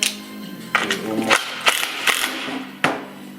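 Part on a garage rolling creeper being screwed in by hand, giving a handful of sharp clicking, ratchet-like turns spaced irregularly and heard close and fairly loud.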